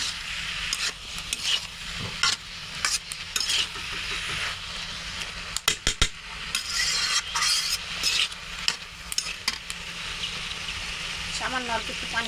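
Ridge gourd with fish roe is stirred in a pan, producing repeated scraping and clattering strokes over a soft background sizzle, with talking in places.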